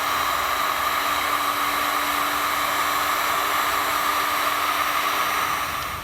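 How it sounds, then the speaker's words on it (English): A heat gun blows a loud, steady hiss and whoosh as it shrinks and seals heat-shrink tubing over crimped wire ends for a flat-tow brake system. The sound stays close and unbroken with no voices. "since this is heat shrink, we'll grab our heat source and seal up those ends"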